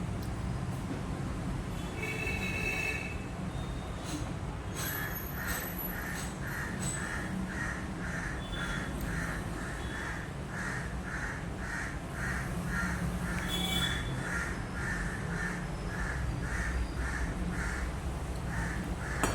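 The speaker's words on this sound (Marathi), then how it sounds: "कावळे इतके ओरडतात, कावळे एवढे ओरडायला लागले की सांगू नका." Crows cawing repeatedly near a home, a steady series of harsh calls spaced regularly across the clip over constant outdoor background noise.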